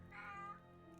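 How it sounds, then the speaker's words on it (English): A cat lets out a single drawn-out, screeching meow that wavers and fades, heard faintly over a steady low background hum. "my cat started screaming"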